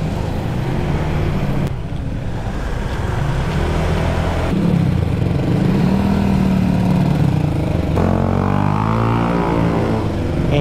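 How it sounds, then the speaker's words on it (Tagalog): A rider's motorcycle engine drones loud and close on an uphill road in North Caloocan, steady and rough with shifting pitch as it climbs, heard alone without talk. "Ingay ng motor ni sir ah."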